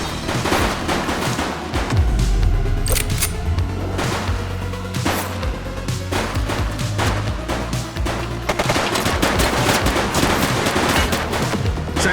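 Dense, sustained automatic gunfire from a shooting suspect in the police game The Precinct, with rapid repeated cracks and overlapping bursts throughout, loud and continuous, with no talking.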